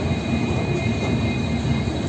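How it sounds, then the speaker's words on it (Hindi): A steady, loud rumble of the Dibrugarh–New Delhi Rajdhani Express passenger train hauled by a WDP4 diesel locomotive, heard as continuous rolling noise with a faint high whine and no speech. "हमारे भी ट्रेन के अंदर जो है कि जो लोकोमोटिव पुल कर रहा है वो भी WDP4 है"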